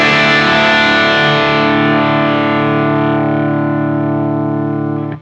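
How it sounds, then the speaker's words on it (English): Electric guitar fitted with a Mojotone '56 Quietcoil P90 pickup, played through distortion: a loud sustained chord rings thick and saturated for about five seconds, then cuts off abruptly. "showing me playing the same thing with this new pickup so you guys can kind of hear how it sounds"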